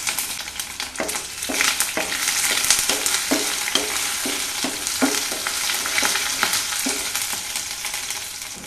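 Green chili, ginger and garlic fry in a hot pan with curry leaves for an okra curry, a continuous loud sizzle broken by regular scraping stirs about once a second.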